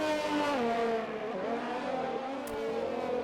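A Ferrari race car engine out on a wet track in a racing video game roars continuously, its pitch climbing and dipping through shifts in a short loud burst with no voices.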